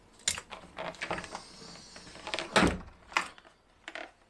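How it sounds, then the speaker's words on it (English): A door card panel is pulled off a Jaguar XJ6 Series 3 door, giving a series of close plastic clicks, snaps and rattles, with one louder crack near the end. "And that is one door card removed."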